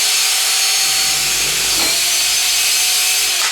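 Steady close grinding of a hand drill boring into wood, a continuous rough whir with a slight change in pitch midway.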